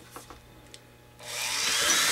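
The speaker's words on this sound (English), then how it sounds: "So what we do is we use the Dremel tool" Dremel rotary tool smoothing drilled holes in titanium rimless eyeglass frame lenses, starting after a few faint taps with a rising high-pitched whir that holds steady and close.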